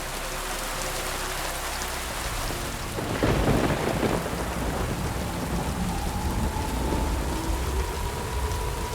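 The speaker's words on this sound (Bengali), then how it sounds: "বাইরে তখন তুমুল ঝড় বৃষ্টির দাপট।" A thunderstorm with heavy rain: a constant dense downpour with a deep rumble of thunder rolling in around the middle and fading slowly, loud and enveloping, with no voices.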